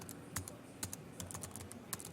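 Fingers typing on a computer keyboard, a quick irregular patter of soft close clicks with no one speaking.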